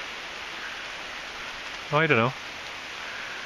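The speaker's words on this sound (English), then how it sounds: "just waiting for this rain to stop" Steady rain falling outdoors on a metal-detecting outing, a constant hiss throughout with a brief spoken remark partway through.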